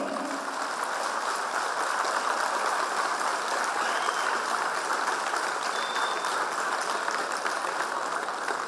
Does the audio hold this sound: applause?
yes